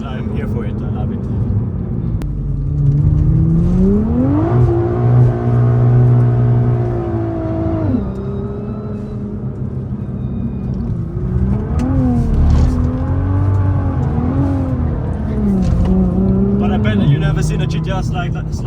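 A 900 HP rear-wheel-drive Nissan R35 GT-R drifts on a mountain street, its engine droning loud and steady with rising and falling revs as it slides, while someone talks over it throughout.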